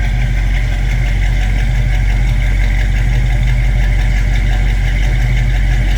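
A 1968 Ford Mustang convertible with its 289 V8 and C4 automatic runs at a steady idle, a loud, close, continuous low rumble with an even throb and no voices over it.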